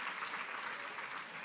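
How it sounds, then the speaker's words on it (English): An audience at a marketing outlook meeting gives a round of applause, steady continuous clapping filling the room without pause. "Give Dan another round of applause"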